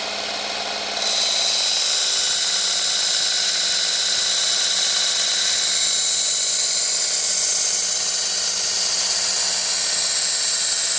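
Camillus carbonitride knife blade being sharpened to raise a burr, a loud continuous high grinding whine that kicks in after a second and holds steady nearby.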